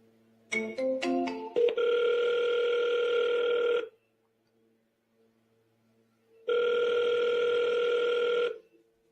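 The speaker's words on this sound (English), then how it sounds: "let's make a couple more phone calls" A telephone dial tone sounds while a call is being placed: a quick run of keypad tones, then a steady held tone that stops, a pause of silence, and the same steady tone returning.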